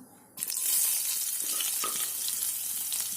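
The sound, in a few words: chopped onion frying in hot oil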